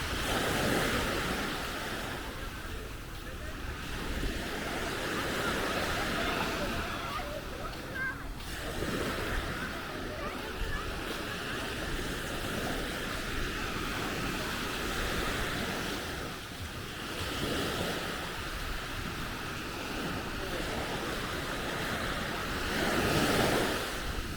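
Waves wash steadily onto a wide sandy beach in Pattaya, Thailand, a continuous surf roar with gentle swells and some wind buffeting the microphone, with no talking over it.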